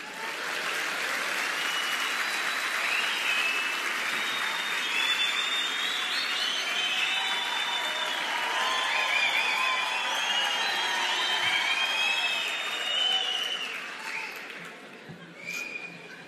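Sustained, dense applause from a lecture audience in Viamão fills the room for about fourteen seconds, with scattered whoops and cheers riding on top before the clapping thins out near the end.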